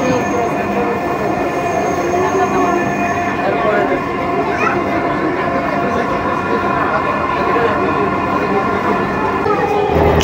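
Moving metro rail train from inside the carriage: a continuous loud rumble and droning motor whine with faint tonal hum, steady without pause.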